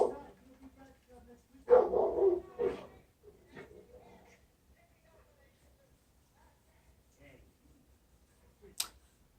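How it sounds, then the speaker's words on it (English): A dog barking indoors, a couple of sharp barks and yips in a burst early on, then quiet with a faint bark near the end, away from the listener at a low level. "Excuse the dog."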